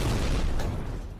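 A cartoon explosion in a DuckTales episode sounds as a dense, continuous rumbling roar. It is loud throughout a short burst with no voices over it.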